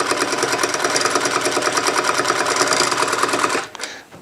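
A sewing machine running a meandering stitch at fairly high speed, a loud rapid mechanical chatter with even rhythm that continues steadily, then halts abruptly near the end.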